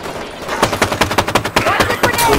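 Automatic gunfire at a Grunt in the video game Halo 5: Guardians, a loud close rapid burst of about a dozen evenly spaced shots that then trails into a noisier stretch.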